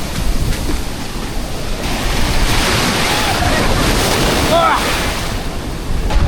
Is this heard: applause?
no